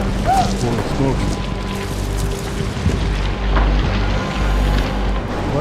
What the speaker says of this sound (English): A bunch of rocks, half the size of a car, the first one, came down the mountain.